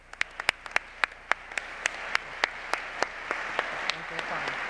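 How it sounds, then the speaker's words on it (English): An awards ceremony audience claps for arts and humanities grantees in Montgomery County, with sharp individual claps standing out over a steady crowd patter that continues throughout. "Let's give these fantastic grantees a big round of applause."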